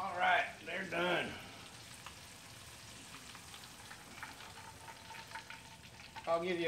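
Chicken livers sizzle and crackle in a hot frying pan, a soft continuous spatter with faint pops, framed by brief bursts of nearby talk at the start and end.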